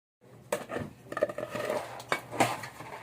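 Ferns and snails are washed in a basin, with irregular clattering and scraping of the container and splashing handling, close up, continuing for a few seconds.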